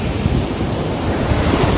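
Ocean waves roll and break steadily onto a sandy beach at Destin, Florida, with a continuous rushing surf wash and wind buffeting the microphone throughout.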